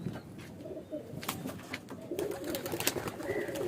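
Andhra pigeons cooing in low, throaty bursts that repeat through the stretch, close by, with light rustling and outdoor noise around them and no talk.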